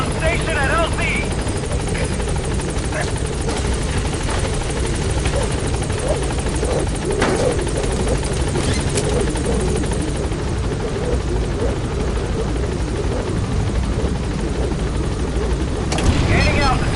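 In the Metal Gear Solid V video game, a helicopter flies in to a landing zone with a loud, continuous rotor thrum and engine whine that holds steady at close range for the whole stretch.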